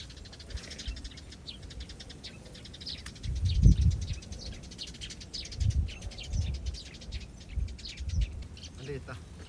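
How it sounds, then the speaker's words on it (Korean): Sparrows chirp busily and continuously outdoors at a snakehead fishing spot in Korea, with dull low thumps and a faint murmur underneath. "참새들이 쟤네들이 자꾸 째깨거려가지고"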